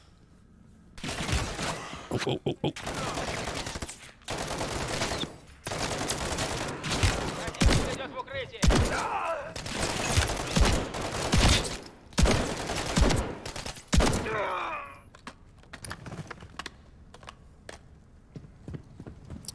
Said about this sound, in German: Das ist auch eine Schrotflinte.